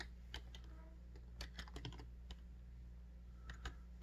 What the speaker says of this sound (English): I'm trying to type left-handed while I do this